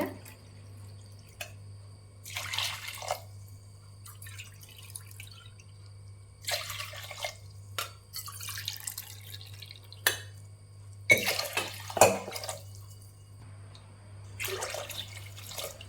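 Water is poured in short bursts over millet grain in a cooking pot, several separate splashy pours spaced across the stretch with quiet gaps and a steady low hum behind.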